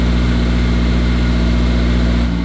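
An Alfa Romeo 4C fitted with GMS engine mounts idles close by, a loud, steady, deep hum with a strong low throb and vibration that holds evenly throughout.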